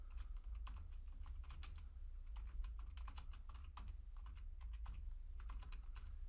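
Steady typing on a computer keyboard while writing Python f-string code, a quick irregular patter of soft key clicks over a low background hum, fairly faint and with no speech.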